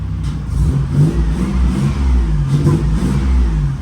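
A 1986 Nissan 300ZX engine with a full catless, near straight-pipe exhaust revs loudly up close with a deep, rough, uneven burble, rising and sagging as it struggles and threatens to die.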